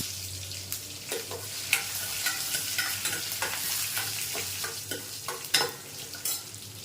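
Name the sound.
dried and green chillies frying and stirred in a pan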